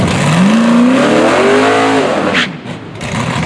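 A Southern Gentleman drag race car roars loudly down the strip, its engine note climbing steadily through the gears before cutting off sharply near the end, followed by lingering track noise.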